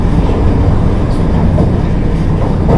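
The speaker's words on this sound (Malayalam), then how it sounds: "ഗുരുവായൂർ മധുര എക്സ്പ്രസ് ആണത്." Guruvayur-Madurai Express passenger train rolling past near Ernakulam, heard from an adjacent moving train; a loud, close, continuous rumble of wheels and carriages with no talk.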